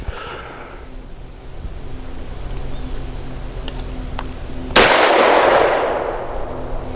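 A SAR USA P8L pistol loaded with Wolf steel-case 115 grain ammunition fires a single sharp shot near the end of an outdoor range scene, preceded by faint background hum and small clicks.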